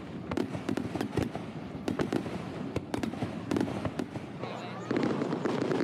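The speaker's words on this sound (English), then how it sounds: "Japanese fireworks are especially famous for changing color." Fireworks at the 41st Miyama City Fireworks Festival in Japan, a rapid string of sharp bursts and crackling pops over a steady crowd murmur, loud and continuous, with spectator voices audible throughout.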